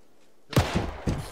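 Gunfire in the video game Arma 3 in a World War II setting, with a few heavy thumping shots close together, coming out of a near-silent background.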